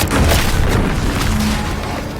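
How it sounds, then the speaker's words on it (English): An explosion in The Outer Worlds 2 rumbles as a loud, deep boom that swells at once and then lingers, alone and without voices. "What's that? An explosion?"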